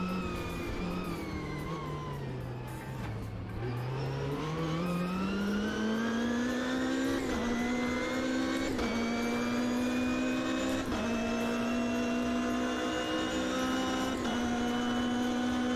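Race car engine in the sim racing game Automobilista 2, a loud continuous drone that dips and then climbs steadily, with brief lifts at each gear change as the revs rise again, alone with no talk.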